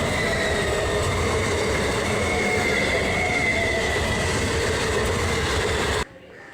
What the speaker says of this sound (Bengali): এই যে চলে আসলো একটা ট্রেন